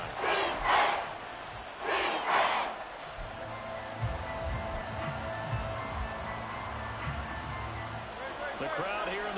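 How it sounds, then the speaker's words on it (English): Crowd noise fills a domed football stadium during an Eagles game near halftime, a steady loud roar with swelling bursts of shouting and cheering, and a commentator talking over it. "The crowd here in the Dome making things difficult."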